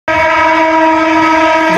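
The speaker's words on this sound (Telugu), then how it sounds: "రామవరపాడు రైల్వే స్టేషన్కి అయితే వచ్చేసిందండి మన ట్రైన్ అయితే" A MEMU passenger train sounds its horn arriving at Ramavarappadu railway station, one loud, steady, close blast lasting nearly two seconds.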